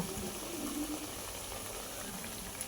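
Two bread pakoras deep-fry in hot oil, giving a steady, close bubbling sizzle that holds at an even level throughout, with no talking.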